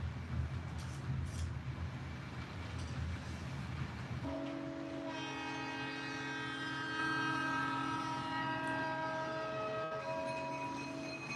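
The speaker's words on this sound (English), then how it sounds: "We'll watch 4 consecutive northbound Grand Trunk trains at the same location." A northbound Grand Trunk freight train rumbles past, then sounds a long, loud multi-tone horn that holds steady for several seconds over the continuing roll of the train.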